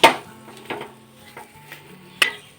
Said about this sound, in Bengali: গরম মশলা আর চাট মশলাটা দিয়ে আরও একবার ভালোভাবে নাড়াচাড়া করে নিচ্ছি